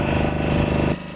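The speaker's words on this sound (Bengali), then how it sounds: "এই যে আমাদের নৌকো ছেড়ে দিল, নৌকাটা বেশ ভালোই তুলছে" A motor boat engine running at sea near Parikhi beach as the boat sets off, a close steady throbbing drone that drops slightly in level near the end.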